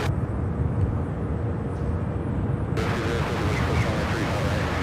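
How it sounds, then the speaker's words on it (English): Steady, broad roar of a UPS Boeing 767 cargo jet, an 11-year-old airframe arriving from Sacramento at Louisville airport, heard from a distance at constant loudness, with a brighter hiss swelling in about halfway through. "our next arrival here out of Sacramento, UPS Flight 5955, an 11-year-old 767"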